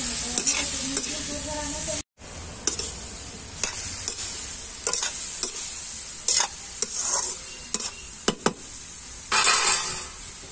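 Mixed vegetables sauté in a pan with fenugreek leaves and coriander for a Chhattisgarhi mixed-veg dish, a constant bright sizzle dotted with spoon taps and clinks, briefly cut off near the start, with no voices.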